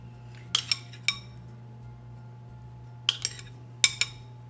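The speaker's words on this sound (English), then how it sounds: "we're just going to spoon about a teaspoon on each one" A metal spoon clinks against a bowl in short, sharp taps while pumpkin filling is scooped onto bread dough, a few quick knocks in two clusters with quiet pauses between, close and alone.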